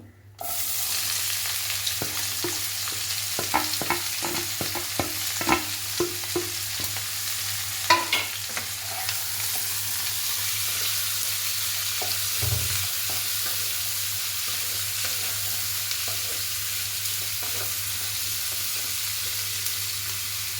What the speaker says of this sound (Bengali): এবার পেঁয়াজটা যে কেটে রেখেছিলাম এই পেঁয়াজটা দিয়ে দেবো